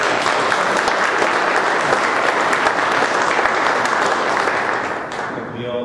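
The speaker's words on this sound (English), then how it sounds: "please give him a round of applause" An audience at a conference keynote on immersive technology and VR film claps in a loud, sustained round of applause that lasts several seconds before beginning to fade.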